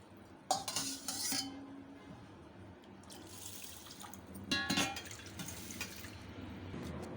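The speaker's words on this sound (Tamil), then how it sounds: "அதே டம்ளர்லேயே வந்து நான் ஆறு டம்ளர் தண்ணி சேர்த்துக்கிறேன்" Water poured from a tumbler into a pot of rice and lentils for sweet Pongal, heard as splashing bursts with clinks of metal vessels against the pot, close and fairly quiet with pauses between pours.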